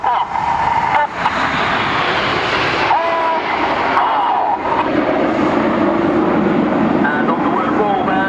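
Red Arrows RAF jets flying a chevron roll, a loud, broad, continuous roar of jet engines that surges and shifts in pitch as the formation passes, with talk over the top.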